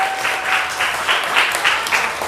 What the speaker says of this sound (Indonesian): tepuk tangan buat Akmal